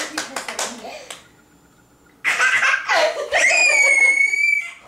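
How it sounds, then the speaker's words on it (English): A few sharp hand claps sound near at the start, mixed with a voice, followed by a pause and then loud high-pitched children's squeals and talk. "Then you clap your hands like that."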